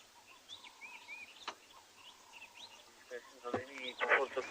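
Helmet shrikes give scattered chirps and whistles, then a louder burst of rapid chattering calls near the end against a quiet outdoor background.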